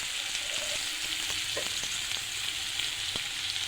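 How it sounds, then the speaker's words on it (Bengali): Sliced onions and slit green chillies frying in oil in a pan, a steady close sizzle throughout with occasional soft stirring scrapes and pops, no talking. "পেঁয়াজও ভাজা হলো,"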